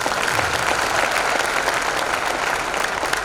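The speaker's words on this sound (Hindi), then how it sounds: "एक बार तो पहले तो उनके लिए तालियां बजा दो आप" An audience at a training session in an academy hall claps for a guest, a sustained, dense round of applause from many hands, fairly close and with no voices over it.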